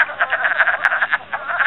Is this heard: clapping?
no